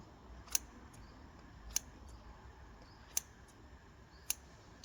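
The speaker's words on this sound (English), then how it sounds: "You have to trim the rubber like this, exactly like this way." Rubber gasket for a Mercedes S-Class oil cap being trimmed with scissors, giving four sharp, isolated snips spaced about a second apart over a quiet background.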